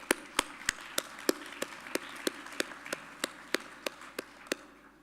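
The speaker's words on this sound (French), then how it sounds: "Je vous applaudis." Applause from a conference audience at the opening plenary of Biomimexpo 2017, heard as a steady train of sharp, evenly spaced claps over a soft, diffuse clapping wash, with no talk.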